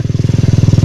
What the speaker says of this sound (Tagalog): Ganda ng motor niya, ano?